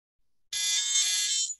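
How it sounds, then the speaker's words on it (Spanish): Remote alarm rings out on an Android phone, a loud, steady bright electronic tone starting abruptly after a faint click and sustaining for about a second before cutting off. "Envío una alarma."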